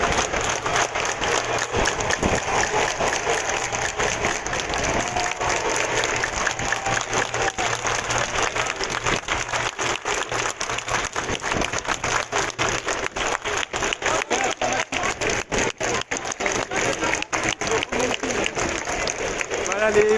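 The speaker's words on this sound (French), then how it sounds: "Donc là, les gens applaudissent des deux côtés." Protesters at a Black Lives Matter rally in Paris applaud, a steady crowd-wide clatter of clapping that continues throughout, with talk from nearby voices mixed into the noise.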